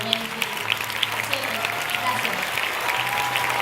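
An audience gives a steady round of applause at a live stage show. The clapping is moderate and continuous, with a low hum and some voices underneath.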